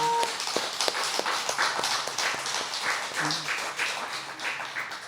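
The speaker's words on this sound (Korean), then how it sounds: "이거에 대해서 우리 먼저 큰 박수를 보냅니다" Applause from an audience at a Buddhist temple prayer ceremony, a lively stretch of many hands clapping with some distinct sharp claps standing out, fading slightly toward the end.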